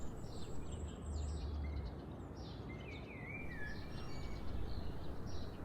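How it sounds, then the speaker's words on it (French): Birds sing and chirp faintly in the distance over a steady wash of ocean surf, with scattered whistled phrases and no voices. "toujours en étant fixé sur le bruit des oiseaux"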